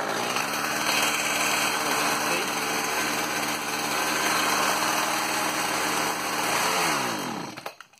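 Petrol hedge cutter running on full choke, its small high-pitched two-stroke engine buzzing loudly and continuously at close range with a slight surge before it dies away abruptly at the end.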